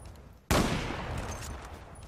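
Sudden burst of heavy gunfire erupts in a Zula clan-war match, loud and sustained after a brief quieter lead-in, with a dense continuous barrage fading slightly over two seconds.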